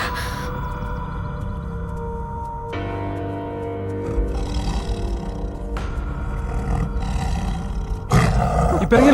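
A tiger roars in a dramatic film scene, a deep, drawn-out rumbling roar over tense background music, swelling louder toward the end.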